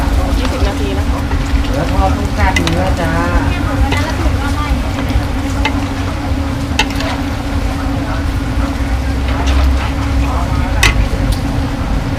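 Beef frying in hot oil at a Thai food stall, a steady sizzling hiss that runs throughout, with a constant low hum and occasional clatter, under brief voices.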